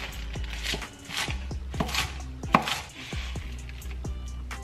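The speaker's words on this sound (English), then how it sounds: "I'll just start chopping it up into small pieces." A knife chops kale into small pieces on a cutting board with a steady run of about ten crisp, close thuds, one a little louder than the rest.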